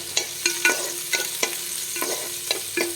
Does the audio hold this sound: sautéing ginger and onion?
yes